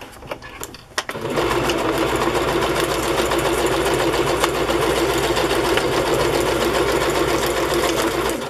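A sewing machine stitching fabric for a Raggedy Ann doll starts after a few soft clicks and runs steadily and loudly at close range, a continuous even mechanical whir with no pauses.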